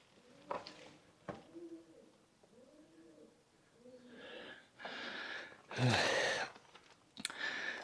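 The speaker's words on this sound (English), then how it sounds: "Sounds like we got some pigeons in there" Pigeons coo softly in a series of faint, hollow calls inside an abandoned turnpike tunnel, with echoing wing-flaps and clicks, a breath or sigh, and scattered rustling from people moving nearby.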